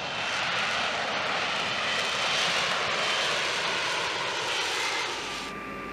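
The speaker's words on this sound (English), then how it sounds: "It can accelerate forward on the short deck with its lift fan and rear swivel nozzle angled down and backward for the additional thrust" An F-35B stealth fighter jet takes off from an aircraft carrier's short deck with a loud, continuous roar and broad jet hiss that holds steady and begins to fade at the end, with no voices.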